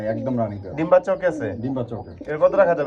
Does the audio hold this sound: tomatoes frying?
no